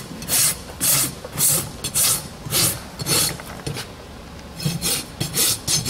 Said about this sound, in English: This is our Balata top level rasp. It's my rasp of choice right now.